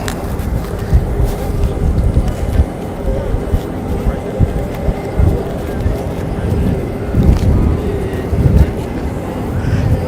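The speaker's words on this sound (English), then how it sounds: "So we have the Boeing Vertol Chinook." A Boeing Vertol Chinook helicopter drones loudly outdoors at the 2025 Paris Air Show, a constant engine roar with faint irregular thuds and wind buffeting over ten seconds.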